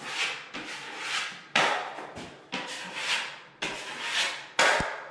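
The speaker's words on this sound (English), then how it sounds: "Grab some mud, push it in like that." A drywall knife pushes joint compound over drywall screw heads, giving repeated scraping, rubbing strokes close up that each start with a soft tap and fade away, about five passes in a steady rhythm with no talk.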